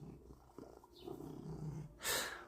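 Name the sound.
domestic cat purring while being petted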